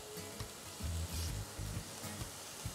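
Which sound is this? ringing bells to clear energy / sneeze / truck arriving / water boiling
water boiling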